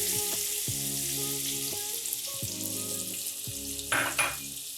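Chopped onions drop into melted butter in a pan for paneer butter masala and fry with a steady hiss, punctuated by several soft knocks and a brief louder splatter near the end, with no talking.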